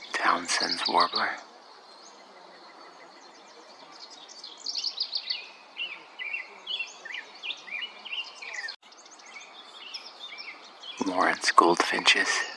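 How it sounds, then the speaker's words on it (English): Thin, high chirps and short song phrases from a Townsend's warbler at a San Diego wildlife refuge at sunset. The calls come in scattered bursts between stretches of faint background, with a brief voice at the start and end. "Townsend's warbler."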